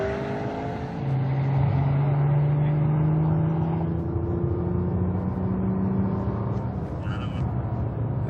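Nissan GT-R lapping Buddh International Circuit, a steady engine drone with rising and shifting tones held loud throughout as the car runs at speed, no talk over it.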